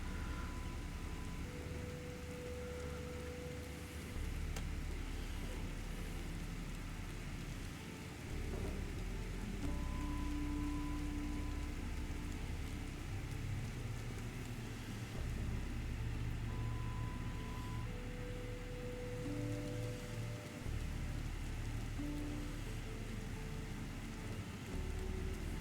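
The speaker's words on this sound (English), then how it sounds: "the sound of rain is there" Steady rain falls in a continuous soft hiss, heard from indoors at a low level, with low rumbling hum layered beneath and no voices.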